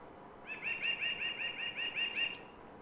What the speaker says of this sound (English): Bird clock. That's new. You guys don't know about bird clock.